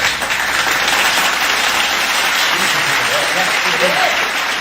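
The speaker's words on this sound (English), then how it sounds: "We'll give Clarissa another round of applause because she did do a fabulous job." Sustained applause from an audience, a dense wash of clapping that continues evenly for several seconds.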